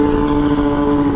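A snowmobile engine runs lean on one cylinder, heard as a brief, loud, steady engine drone close by with no talking.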